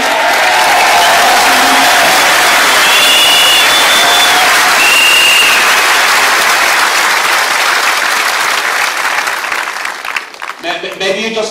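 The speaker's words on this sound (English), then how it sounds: "maybe you just keep your applause for the end" A massive rally crowd at a national stadium applauds and cheers loudly and continuously, a dense wash of clapping that fades slightly near the end.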